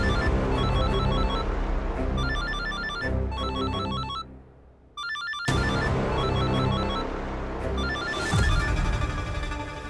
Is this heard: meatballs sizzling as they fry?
no